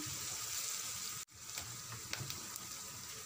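Potatoes cut small frying in a pan for a home lunch: a steady soft sizzle throughout, broken by a brief cut partway before it continues with light crackles.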